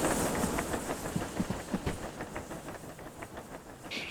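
A steam locomotive in the Derail Valley train game rolls along the rails with irregular metallic clicks and clunks over a soft hiss, moderately loud, and a brief higher-pitched hiss rises at the end.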